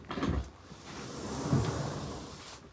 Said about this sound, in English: Maybe I should close this door.